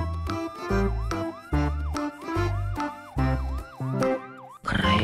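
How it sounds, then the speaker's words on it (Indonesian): A wailing siren sweeps up and down repeatedly, blended with bouncy music and thumping beats. "ada mobil ambulan"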